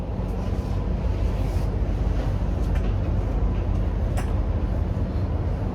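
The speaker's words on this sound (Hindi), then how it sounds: "मेट्रो में बैठ गए हैं और अभी हम एयरपोर्ट के लिए जा रहे हैं।" Steady low rumble of a metro train riding toward the airport, a continuous, even drone of wheels and motion with faint wind-like hiss, no talk.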